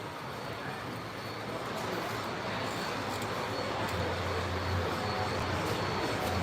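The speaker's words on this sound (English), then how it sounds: "it's a 60 axle freight train" Model freight train on a hobby show layout, a Santa Fe doubleheader pulling a 60-axle consist, rumbles steadily beneath the busy, echoing din of an indoor crowd.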